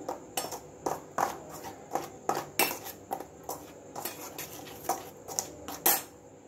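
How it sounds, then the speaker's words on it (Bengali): Dry snack ingredients for a taro snack are tossed and stirred in a bowl, a quick run of close clinks and scrapes in an uneven rhythm, with no talk. "শুকনো অবস্থাতে কিন্তু উপকরণগুলো ভালোভাবে মিশিয়ে নিচ্ছে।"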